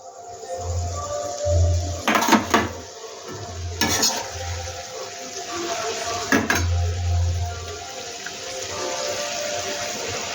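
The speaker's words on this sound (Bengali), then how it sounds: "এবার আমি ডিমটা দিয়ে দিচ্ছি।" Eggs going into a fennel masala egg curry in a pan, with a few sharp utensil clatters against the pan over steady sizzling and stirring, backed by a low rhythmic hum.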